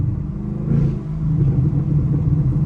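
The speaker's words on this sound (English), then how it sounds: "my car is popping right now" A Chevrolet Camaro SS V8 rumbles close by while driving on a wet road, a low, throaty exhaust burble swelling after a brief dip, with no talk over it.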